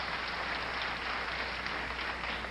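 Spectators at a 1985 professional bowling tournament applaud after a strike, a steady wash of distant clapping that holds evenly without any change in level.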